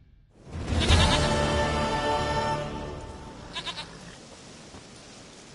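A goat in The Witcher 3: Wild Hunt bleats loudly and close at the start, a long wavering cry that fades out, followed by a couple of short fainter calls near the end.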